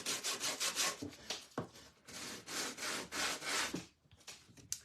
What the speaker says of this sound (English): I think that piece of sandpaper has had better days.